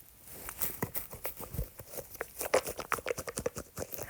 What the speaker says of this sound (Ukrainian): Дощ. А, ось що хлюпало.